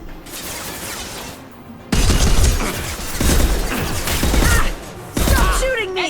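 Gunfire in the Mass Effect 2 shooter, loud sustained bursts of shots and impacts in several stretches with brief pauses between them, amid battle noise.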